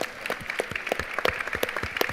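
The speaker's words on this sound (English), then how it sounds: "Another round of applause, I think, for Dr. Khan." A modest audience applauding after a talk at a sustainability and food waste event, with distinct individual claps in an uneven rhythm that stay fairly close and moderately loud.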